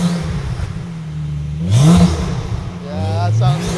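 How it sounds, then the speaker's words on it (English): A Porsche 911 Turbo S idles high on a cold start, then its engine is blipped into a short rising rev before settling, with a second smaller rev after, loud and close. "Give it a little blip."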